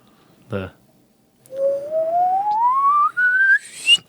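A brief vocal sound, a pause, then one long whistled tone sliding smoothly upward in pitch, breaking briefly before rising higher, close and clear.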